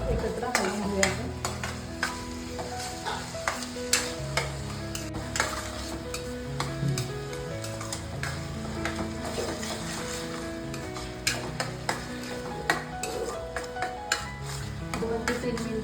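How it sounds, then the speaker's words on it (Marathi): Grated pumpkin and jaggery stirred together in a pan, a continuous soft cooking sizzle under repeated light scraping and tapping of a spoon against the pan, close and busy for the whole stretch. "दोन ते 3 मिनिटं हे सर्व एकत्र हलवून घ्यायचं, म्हणजे भोपळ्याचा किस थोडा शिजून जातो।"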